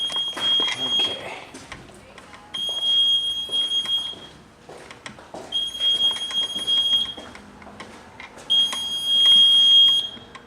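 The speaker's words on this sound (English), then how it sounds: "This is your fire alarm panel." A fire alarm panel in an abandoned theatre sounds repeated high, steady electronic tones in regular bursts about every three seconds, moderately loud, while people talk and move around nearby.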